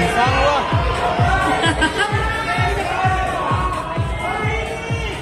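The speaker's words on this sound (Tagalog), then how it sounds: "Namiss ko to, yung ganitong sigawan." Audience at a male pageant grand final in Manila screaming and cheering in loud, rhythmic waves of chanting that rise and fall repeatedly, a dense crowd of shouting voices filling the space.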